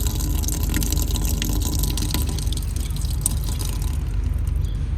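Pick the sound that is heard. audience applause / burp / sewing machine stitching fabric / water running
water running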